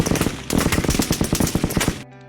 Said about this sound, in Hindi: काफी नजदीक से 9 गोलियां दागता चला जाता है।